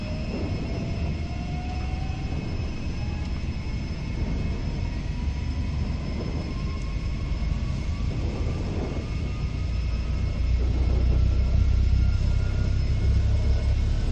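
Learjet 45XR jet engines on the takeoff roll, a loud steady roar with deep rumble and rising whine heard from inside, building slightly toward the end.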